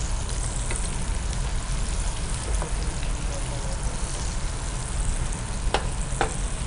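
Prawn pakoda fries in hot oil with a dense, continuous crackling sizzle, loud and close, with a few sharper pops near the end.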